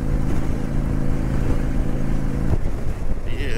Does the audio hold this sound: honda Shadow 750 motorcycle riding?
yes